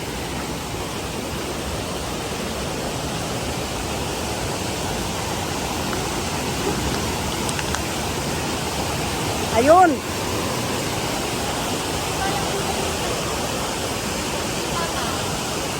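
Steady rushing roar of falling water, constant and broadband, with a brief voice and a short whistle-like tone partway through.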